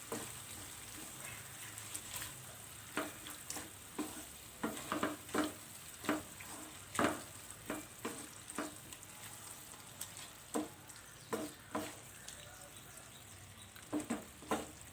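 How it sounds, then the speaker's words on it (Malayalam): Soya chunks Manchurian with chilli sauce simmers and sizzles softly in a pan while a spoon stirs it in regular, rhythmic scraping strokes, each a soft wet swish over the quiet bubbling. "നന്നായിട്ടൊന്ന് മിക്സ് ചെയ്യുക."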